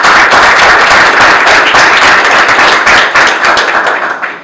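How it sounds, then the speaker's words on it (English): A conference audience gives dense, loud applause that holds steady and then tapers off at the end, at a domain industry forum in 2012. "I think he deserves a round of applause."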